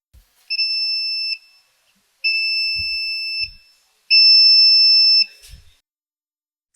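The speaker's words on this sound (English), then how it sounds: "When the beam is broken, the buzzer starts beeping." Buzzer in a laser entry alarm circuit from an electronics STEM kit, sounding three loud shrill electronic beeps of about one second each with short gaps between, the last one longest.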